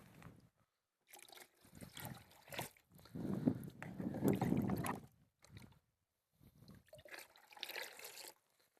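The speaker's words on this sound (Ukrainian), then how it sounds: "Тепер я додаю ще 2 літри води до нашого розчину." Water pours and splashes into a container of lime solution for Bordeaux mixture in bursts, sloshing and trickling with brief pauses between pours, close by and fairly quiet.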